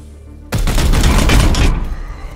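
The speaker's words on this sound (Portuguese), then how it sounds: "Eu vou atirar." Burst of gunfire in the Warhammer 40,000: Chaos Gate - Daemonhunters video game, a loud sustained volley of rapid shots lasting about a second before trailing off into a fading rumble.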